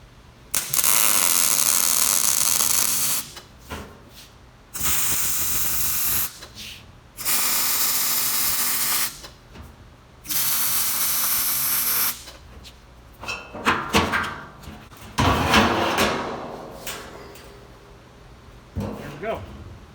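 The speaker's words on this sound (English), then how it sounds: "I'll go ahead and weld these two together on the flats here, here, and here." A steel gasifier cradle mount is welded to a barrel: four bursts of loud, harsh crackling and buzzing, each lasting two to three seconds with short gaps, then a choppier stretch of shorter stitch welds at close range.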